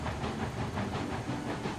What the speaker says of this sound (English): Oh, that's the air compressor.